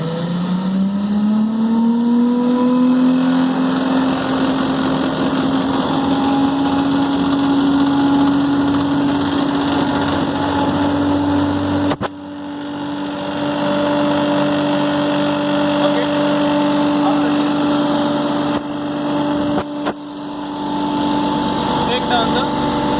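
A propulsion lab engine for free jet and wall jet tests, throttled up slowly to full, a loud steady drone whose pitch rises at the start and then holds, with brief dips later on.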